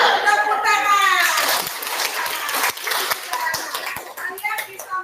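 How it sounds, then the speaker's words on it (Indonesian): A classroom of children clapping their hands in a quick burst, loud and close at first, then thinning into scattered claps and chatter from the kids. "Tepuk tangan."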